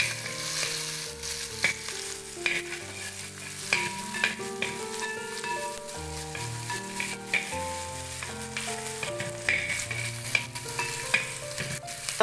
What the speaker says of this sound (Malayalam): ഇനി ഇതിലേക്ക് നമ്മൾ ക്യൂബ്സ് ആയിട്ട് അരിഞ്ഞു വെച്ചിരുന്ന സവാള ഇടും സവാള ഇട്ട് നമുക്ക് ഒന്ന് വരാം